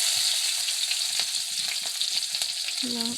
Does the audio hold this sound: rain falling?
no